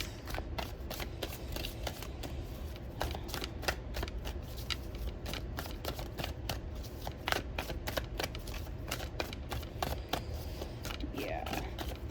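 Tarot cards being shuffled by hand, a continuous run of quick crisp riffling snaps with brief pauses, close and fairly quiet with no talking.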